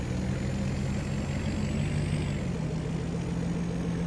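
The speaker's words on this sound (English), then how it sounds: "And this truck's pretty quick, pretty nippy." A truck drives in a farming video game, giving a steady, moderate engine drone with a faint high whine laid over it. The hum holds even throughout, and no one speaks.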